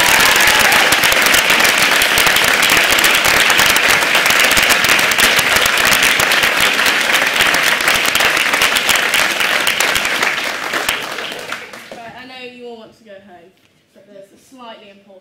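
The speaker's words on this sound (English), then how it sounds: "Can we give them a big round of applause?" Loud, dense audience applause at a senior house school drama show fills the room for about eleven seconds, then thins out and fades as a voice begins speaking over the tail end.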